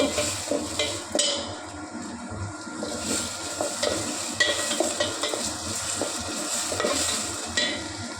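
Onions with salt frying in a pan, a continuous close sizzle broken by repeated scraping and stirring strokes of a spoon against the pan, with no voices.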